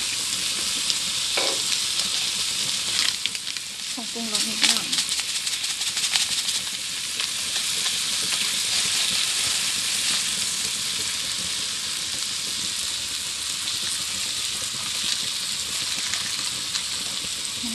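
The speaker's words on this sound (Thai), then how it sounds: "ผัดจนส่วนผสมเครื่องปรุงเข้ากันดีแล้วนะคะ" Pork stir-fried with fish sauce, light soy sauce and coconut sugar sizzles steadily in a hot pan, with a few scraping stirs early on, then a constant frying hiss.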